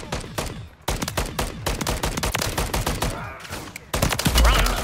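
Rapid video-game gunfire in a Call of Duty zombies match, dense bursts of automatic shots and single cracks fired back to back, loud and continuous with brief pauses, a faint voice now and then.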